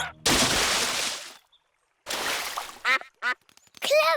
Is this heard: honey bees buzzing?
no